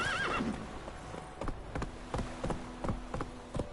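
A horse in The Witcher video game gives a short, high whinny at the start, then its hooves beat out a steady galloping clip-clop rhythm that stays fairly close.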